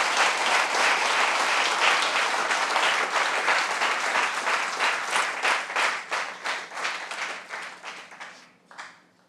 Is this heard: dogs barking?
no